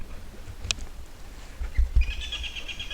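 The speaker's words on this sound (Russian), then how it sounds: "Ух ты, какая-то птица там." Outdoors on rocky scree near rocks in Bashkortostan, a bird gives a brief chirp and then a thin, sustained trilling call at moderate distance over wind rumble and a few low thumps.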